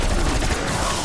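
Gunfire in Call of Duty: a dense, continuous wash of rapid shots with no gaps, loud and noisy throughout the short burst.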